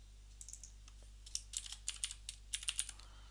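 Soft, quick keystrokes on a computer keyboard come in irregular bursts of clicks over a low steady hum, close but quiet, with no voices.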